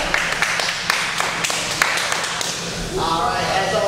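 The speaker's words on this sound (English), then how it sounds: "Clap it up. Clap it up." Audience clapping at an open mic night in a burger restaurant in New Jersey: irregular, fairly loud claps over a noisy room, with talking alongside.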